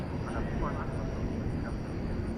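An airliner takes off at night at DFW Airport, its engines a steady, broad jet roar that holds at a constant level throughout, with faint voices underneath.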